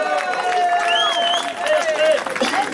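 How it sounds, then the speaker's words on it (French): Crowd at an outdoor rally at Place Masséna in Nice applauding and cheering, a steady dense wash of clapping with whistles and voices mixed in, fairly loud and continuous throughout. "Bravo à vous, applaudissez-vous."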